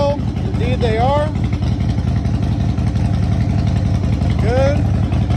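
A 2017 Harley-Davidson Low Rider S with a Vance and Hines exhaust idles steadily and close by on a cold start, a continuous low throb throughout, with a person talking over it.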